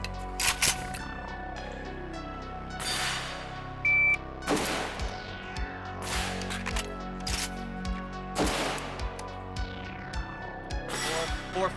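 Several sharp gunshots from an AK-Niner, a 5.56 AK-pattern rifle, ring out at an outdoor range, spaced irregularly with quiet gaps between them.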